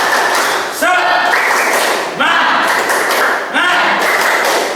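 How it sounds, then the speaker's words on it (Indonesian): A classroom group does a rhythmic spirit clap in three quick patterned bursts of hand claps, with voices chanting along over the clapping. "Tepuk semangat."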